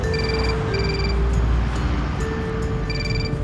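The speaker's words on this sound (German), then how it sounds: "Das ist mein Telefon, habe ich gar nicht bemerkt." A telephone rings in a scene from a 2011 German comedy film, repeated electronic ringtone bursts in a regular pattern that sound moderately loud over a constant background hum, with no talk.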